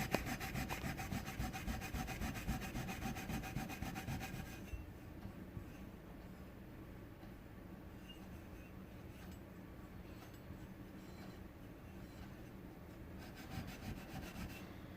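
A Scotch-Brite pad scrubs a dirty metal bell clean with rapid, steady rasping back-and-forth strokes, loud at first, then fading to quieter rubbing before picking up again near the end.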